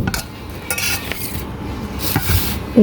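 Noodles cooking in a pot in a home kitchen as a mother prepares a school tiffin, with steady stirring, scraping and soft clinks of a utensil against the pot over a faint simmer, close and moderately loud.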